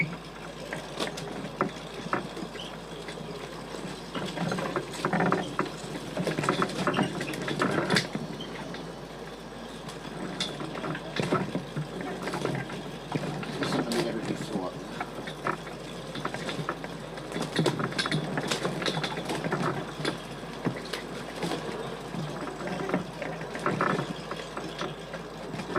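Five-cylinder radial engine on a model aircraft at a model air show flightline, running steadily with a busy mechanical chatter and crackle, fairly close, with no talk over it.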